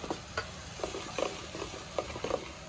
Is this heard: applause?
no